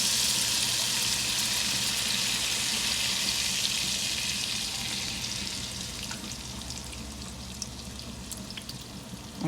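Coconut milk cooks with tomato in a pan for Haitian fish stew, giving a steady bright sizzle that fades slightly as it settles, with no talking.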